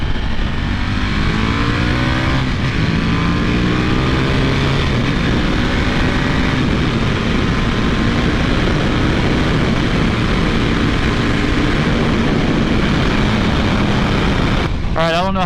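A 2015 KTM RC8 1190R with its 1195cc V-twin pulls hard under acceleration, a loud steady engine roar with rising and falling harmonic sweeps as it climbs through the revs, heavy wind buffeting throughout, and a brief sharp shift near the end.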